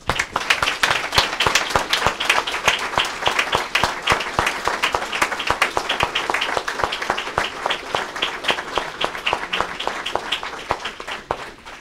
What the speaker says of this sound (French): Je pense que nous allons vraiment applaudir chaudement cette